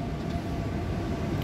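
An old S-Bahn train on the S2 line slowly pulling out, heard as a steady low rumble and rolling hum at moderate loudness with no talking.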